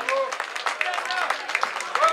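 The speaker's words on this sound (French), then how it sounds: "Vos applaudissements le public." A crowd applauds at a cross-country running podium with steady scattered clapping while an announcer speaks over it in French.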